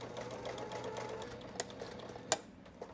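A sewing machine basting pockets onto webbing for a see-through beach tote, giving a steady close whir with a couple of sharp clicks near the end and no speech.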